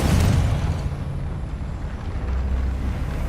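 A Confringo fire spell explodes in Hogwarts Legacy: a loud, low, roaring blast rumbles up close and holds steady for the full few seconds, with no voices.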